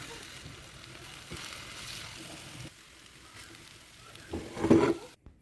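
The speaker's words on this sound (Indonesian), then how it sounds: "panaskan minyak atau mentega, tumis pisangnya sebentar saja ya. Dibolak-balik agar merata." Banana pieces sizzling in hot oil or butter in a wok, a soft steady frying hiss, with a louder burst of sizzling and clatter near the end as the pieces are turned over.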